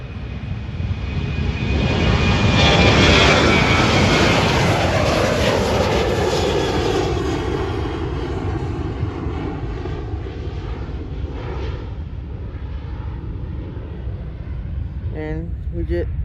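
A United Airlines Boeing 737 jet roars loudly through its takeoff roll, the broadband engine rush swelling over the first seconds, peaking, then easing into a steady fading drone as it climbs away.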